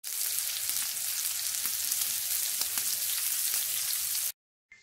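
A keto steak sizzles and fries loudly in a pan, a continuous close crackling hiss with small pops that cuts off abruptly near the end, followed by a brief faint noise.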